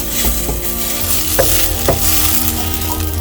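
Whole spices sizzle steadily in hot oil for a catfish gravy, a close, continuous frying hiss broken by a few sharp crackles and pops, with no one talking.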